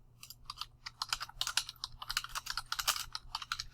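Fingers tap out text on a computer keyboard in quick, irregular bursts of close, crisp keystrokes, with no voices.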